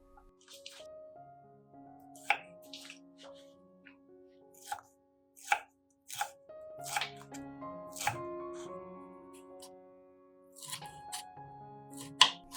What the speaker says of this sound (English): And chop them finely.